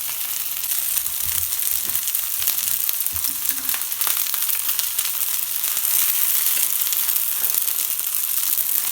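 Vegan oatmeal cutlets frying in oil in a pan give off a steady, even sizzle that runs unbroken throughout, with a few faint clinks and stirring touches and no talking.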